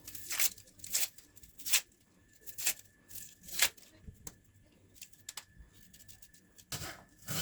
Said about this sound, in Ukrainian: Очищаємо цибульку і моркву.